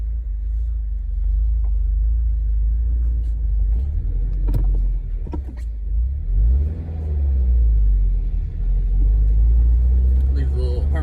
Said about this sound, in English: hopefully you can hear me over the one, road noise, and two, the engine